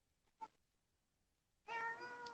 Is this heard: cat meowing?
yes